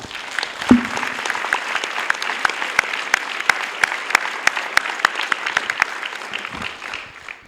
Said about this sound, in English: I would invite you to applaud them warmly